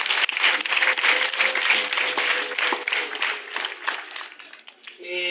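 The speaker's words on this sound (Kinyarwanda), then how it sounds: "Bakristu mwese namwe mwiha amashyi kuko mwaje kwizihiza umunsi mukuru wanyu." A church congregation applauds at a celebration, giving steady rapid clapping from many hands that fills the space, with a voice briefly audible near the end.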